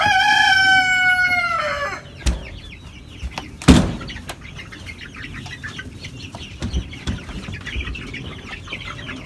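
Chickens in a brooder: a rooster crows loudly at the start, then scattered clucks and chirps follow amid occasional bumps and rustling, moderately close.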